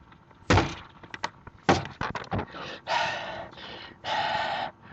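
Heavy kicks strike a stuck door, several sharp thuds in uneven succession, mixed with strained grunts and breathing, close and loud.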